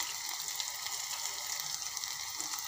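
Tomato with red chilli powder and turmeric sautéing in a pan for dhaba-style palak dal, a soft, even, continuous sizzle heard close up without speech.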